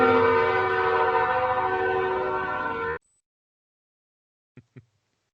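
A loud train rumbles past very close to a house, with a steady dense roar that cuts off abruptly, then silence broken by two short faint knocks.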